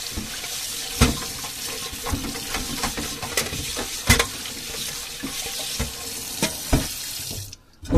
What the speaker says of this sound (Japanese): 油汚れたホットプレート洗いたいと思います。